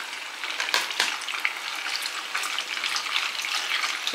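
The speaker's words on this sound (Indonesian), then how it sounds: "Kita goreng sampai matang." Food sizzles and crackles steadily in a pan while nasi kebuli with beef is being cooked, a close, continuous frying hiss with occasional sharper pops and no talking.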